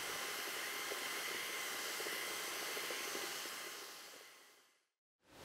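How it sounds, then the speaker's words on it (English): An electric paddle mixer stirs tile primer to a liquid consistency with a steady, airy whirring roar that winds down to silence near the end before starting up again. "then I'll get my electric paddle mixer to mix it to a nice liquid consistency"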